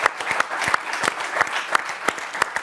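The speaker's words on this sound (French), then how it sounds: "on peut vous applaudir pour ça." Studio audience at a French TV football show applauding, a moderate round of clapping with distinct individual claps standing out, steady and close.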